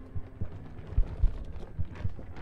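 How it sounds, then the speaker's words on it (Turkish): Low, thudding heartbeat in a video game, paired beats repeating at a steady pace, muffled and moderately quiet with a faint hum behind. "Bir kalp sesinde artış var abi."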